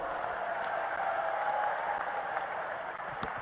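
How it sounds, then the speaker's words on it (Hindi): Steady crowd applause at a public land-records distribution event in India, a dense wash of many hands clapping at moderate distance, continuous with no voices over it. "जोरदार ताली बजा दें।"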